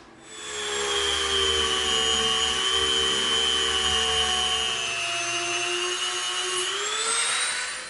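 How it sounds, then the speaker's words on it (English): A Dremel rotary tool cuts a trench in EVA foam, a close, loud, steady high-pitched whine that holds for several seconds, then dips and rises as the bit bites into the foam. "let's get our Dremel out"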